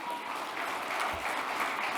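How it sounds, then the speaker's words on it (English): An audience at an Indigenous-led clean energy gathering gives a sustained round of applause for a woman, the clapping broad and even throughout with no voices on top. "if you know Rosa, let's give Rosa a big round of applause."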